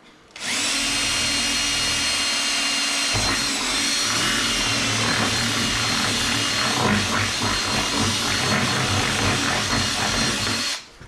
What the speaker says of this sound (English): Sometimes you just gotta start drilling holes and it all comes together.